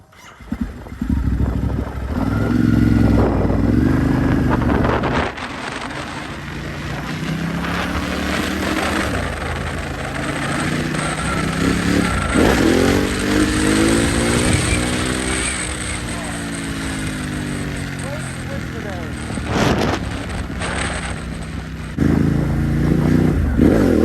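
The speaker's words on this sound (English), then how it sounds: "Oh, there goes my bike." A Ducati Hypermotard 950 SP motorcycle engine drones loudly throughout, rising and falling in pitch as the bike revs and rides past, with talk mixed over the steady roar.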